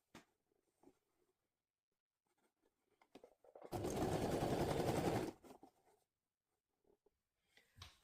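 A sewing machine stitches through shirt fabric in one steady, loud burst of about a second and a half, with faint handling rustles before and after in a quiet room.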